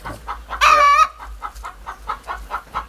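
Backyard hens clucking, one loud sustained squawk near the start followed by a steady run of shorter rhythmic clucks, close and clear with no talk.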